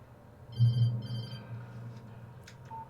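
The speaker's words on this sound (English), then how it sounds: "Phone call." An old-style phone bell rings twice in the video game Alan Wake, two bright ringing bursts over a low ambient hum, fairly faint and alone without talk.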